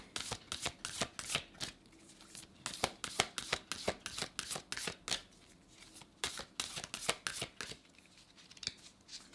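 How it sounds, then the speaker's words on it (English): Oracle cards being shuffled by hand in a quiet room, a steady run of crisp riffling flutters and soft slaps repeating in quick bursts, close and fairly quiet, with no voices. "Let's pull you a oracle card and we'll end your read"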